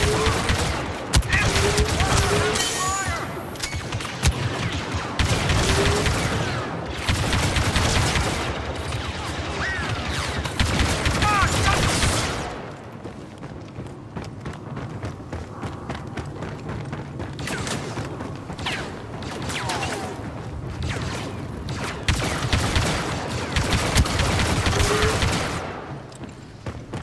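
Blaster fire in a Star Wars Battlefront 2 battle, dense rapid bursts of shots with explosions, loud and close, easing briefly midway before the shooting picks up again.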